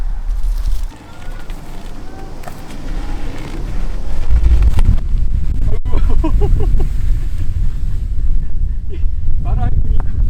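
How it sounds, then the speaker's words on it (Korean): Wind gusts buffet the microphone at an outdoor campsite during tent setup, a steady rumbling roar with bumps and rustles, while someone speaks over it in the second half. "바람이 부니까"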